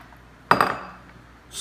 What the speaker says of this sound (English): We cut up some onions, not a bunch, but some onions. I'm going to put those in the pan.